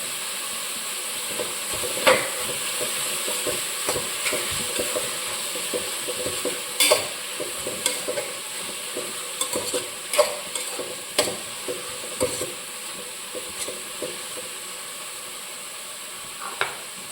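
Onions sautéing in a pan, a continuous sizzle broken by repeated scraping and stirring strokes from a spoon at irregular intervals, close and fairly loud with no voices.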